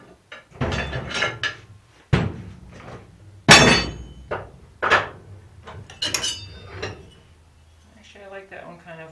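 A hammer strikes hot metal while forging an arrow-pattern latch body, sounding as a series of sharp, ringing blows at irregular intervals, close and loud, with a person speaking between strikes.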